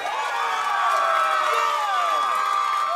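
A crowd of Tony Luke's fans cheers and whoops at a cheesesteak eating challenge, a loud, sustained wave of shouting voices.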